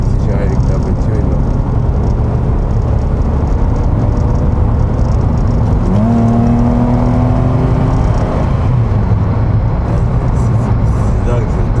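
1997 Jaguar XJ with a V6 engine accelerating on the road, a loud continuous drone whose pitch climbs sharply midway, heard from inside the car with people talking throughout.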